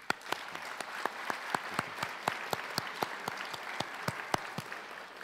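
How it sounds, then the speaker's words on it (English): Scattered applause from a small crowd at a university graduation ceremony, a run of separate sharp claps at an uneven pace, fairly close and without voices. "Please give yourselves a round of applause."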